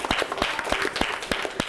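A classroom audience gives a short round of applause, brisk overlapping hand claps at close range.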